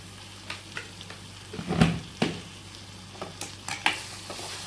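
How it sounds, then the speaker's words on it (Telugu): Chicken curry with chilli powder stirred in a pan, giving scattered scraping and clinking spoon strokes over a faint sizzle, with one louder clatter near the middle. "బాగా కలబెట్టుకొని"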